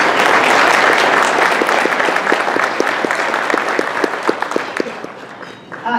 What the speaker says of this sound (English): So let's give a big round of applause to all those folks today.